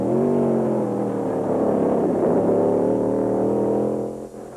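Race cars at the 1966 Road America 500 road race, including a McLaren Chevy: a steady, loud engine drone held near and constant for several seconds, then fading slightly at the end.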